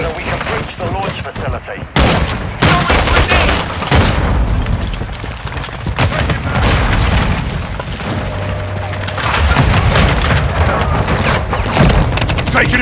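Dense gunfire and booming explosions from the video game Call of Duty: Modern Warfare 3 (2023), loud and continuous battle noise with repeated shots and blasts, with voices calling out over the combat.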